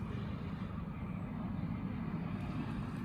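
A helicopter flying overhead makes a steady, low droning rumble that holds at an even level throughout, with no voices over it.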